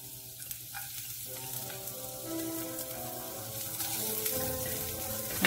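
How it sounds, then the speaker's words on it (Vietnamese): Three cloves of minced garlic sizzle in oil in a pan, a steady frying crackle with stirring scrapes, fairly quiet and close, with no talking. "Mình xào cho nó thơm."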